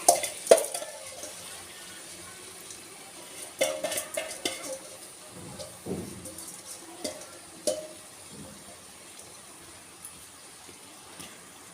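Polao rice stirred and fried in a pot, with a spoon scraping and clinking against the metal over a soft sizzle, in irregular bursts that thin out toward the end, close up with no talking.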